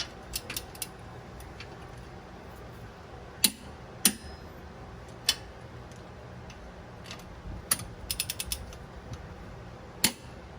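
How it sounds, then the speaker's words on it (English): A ratchet torquing the leaf spring bolts on a Jeep YJ Wrangler gives scattered sharp clicks and short bursts of ratcheting over a quiet background. "now I'm going to torque all these down."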